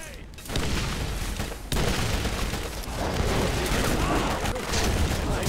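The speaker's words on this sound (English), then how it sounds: "Throwing grenades." Grenades detonating in the video game Borderlands 3, a dense, continuous roar of booming blasts and crackling gunfire filling the whole stretch, loud and sustained after a brief quieter opening.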